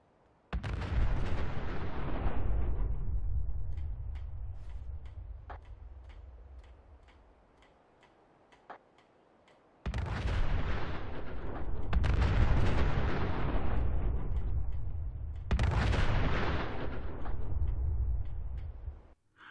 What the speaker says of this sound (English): the board will be destroyed with each block exploding if your blocks reach the top